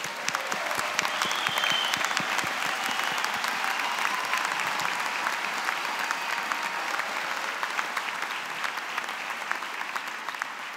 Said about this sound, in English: Shall we have another round of applause for the Public Health Pledge?